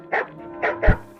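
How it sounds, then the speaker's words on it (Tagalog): Dogs barking nearby: three short, sharp barks in quick succession, the last one deeper and heavier. "Daming aso dito ah."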